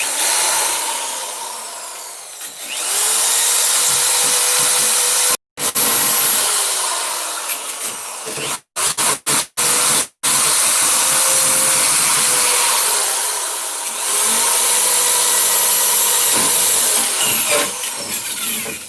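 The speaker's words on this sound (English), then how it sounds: "It's only a drill." A power drill whines loudly and steadily, stopping and restarting in several short bursts before running on again.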